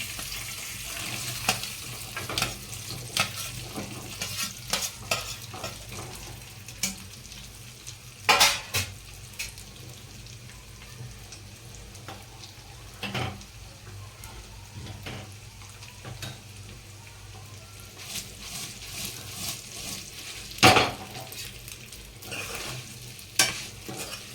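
Chopped steamed bottle gourd muthiya frying in a pan with curry leaves, a low steady sizzle broken by frequent scraping and clanking of a spoon against metal, with a few louder knocks, close up and without voices.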